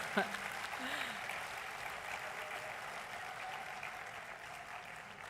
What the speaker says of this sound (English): another round of applause is well deserved